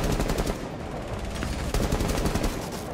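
Rapid automatic gunfire in the Rainbow Six Siege shooter game, dense bursts of shots rattling continuously and loudly throughout, with a brief voice in the mix.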